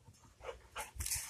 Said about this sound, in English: Oh, that dog's crazy.